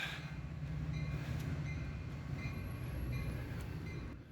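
Steady rumble and rattle of a passenger train in motion north of Chicago, Illinois, heard from inside the carriage, with a faint high squeal near the end.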